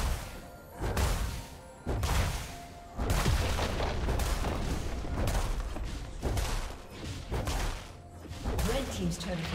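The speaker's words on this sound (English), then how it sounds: "Red team's turret has been destroyed." Turret destruction in League of Legends, a top-lane match: repeated heavy booming crashes and thuds in bursts over dense game music and effects, loud and close, with an announcer voice speaking over the action.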